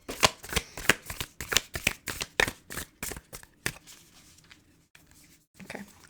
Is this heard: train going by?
no